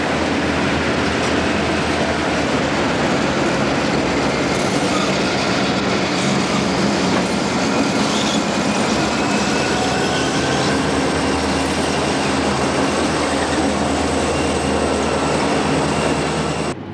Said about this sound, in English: There's a southbound train at Brant.